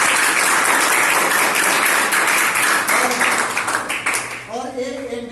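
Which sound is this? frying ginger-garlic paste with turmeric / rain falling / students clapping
students clapping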